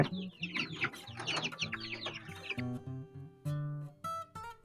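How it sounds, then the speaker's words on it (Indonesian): Free-range village chickens (ayam kampung) in a rearing coop cluck and chatter up close, several birds overlapping in busy calls, followed by a few longer, tonal squawks. "Ini ayam saya rekan-rekan"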